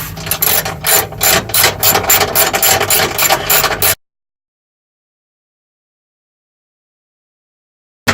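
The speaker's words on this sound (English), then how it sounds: "Now we're just using a ratchet and just really loosely tightening down these brackets" A ratchet loosely snugs sway bar brackets under a 2016 Honda Civic Sport Hatch, giving rapid, loud, close clicking for about four seconds before abrupt silence, then a short burst at the very end.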